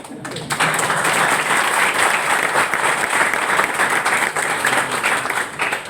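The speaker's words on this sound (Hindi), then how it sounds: "फिर आप ताली क्यों नहीं बजा रहे हो?" A seated crowd at a Sunday open meeting in Udaipur bursts into loud, dense applause after a brief pause and keeps clapping evenly, with no talking.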